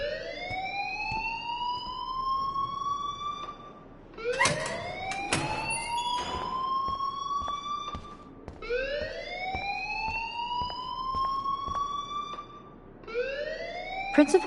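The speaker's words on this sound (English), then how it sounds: "please turn off that alarm since that's your job" A school alarm in a video game wails in repeated rising sweeps, several cycles with brief gaps between them, loud and piercing, with sharp clicks and knocks scattered over it.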